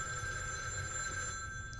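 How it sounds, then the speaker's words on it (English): A telephone bell rings steadily in the survival horror game The Evil Within 2, a continuous electronic trill over a low ambient rumble. "Phone. Yeah, gotta answer the phone."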